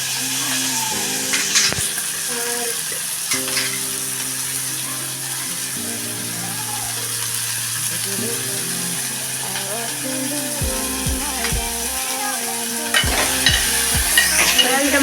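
Carrots sizzling in a hot pan as a utensil stirs them, a steady fry with intermittent scraping and clatter, and a faint voice now and then in the background.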